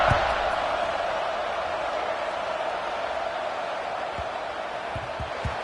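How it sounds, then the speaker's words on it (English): Steady stadium crowd buzz from a Nebraska vs Penn State college football video game, a dense continuous roar holding evenly throughout with a few faint low thumps near the end. "this crowd is buzzing after that last score"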